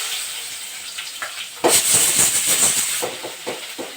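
Small onions and green chillies sautéing in oil in a home kitchen, heard as a sudden loud sizzle that starts partway through and then crackles steadily and close, with no talking.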